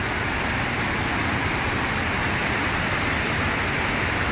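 Yaremcha waterfall in the Carpathian river setting pours with a constant, dense roar, loud and close, unchanging throughout with no voices.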